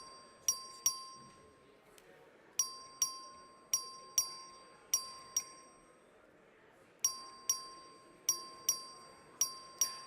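A clerk's voting bell rings in a state legislative chamber, sharp metallic dings repeating in quick pairs and clusters across the stretch, clear and close over a quiet room.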